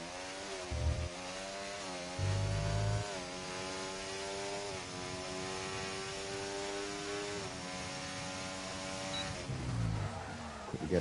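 A McLaren GT3 car in a racing video game screams through a fast lap at Bahrain. The engine howls steadily, its pitch climbing and dropping through gear changes, with a few low thumps.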